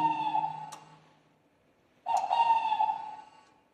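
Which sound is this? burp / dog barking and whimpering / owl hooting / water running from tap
owl hooting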